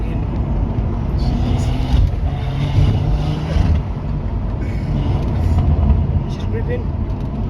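A BMW M140i with a 460 bhp stage 2 tune and Quicksilver exhaust rumbles steadily from inside the cabin while driving, with the engine note surging at moments and a person talking over it.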